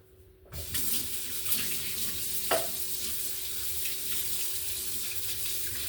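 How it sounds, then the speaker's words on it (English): Tap water runs into a sink while soap is rinsed off a surface being cleaned for making Jamaican-style roti, a steady close splashing stream that starts abruptly after a moment of quiet. "So I'm gonna rinse this, get rid of the soap."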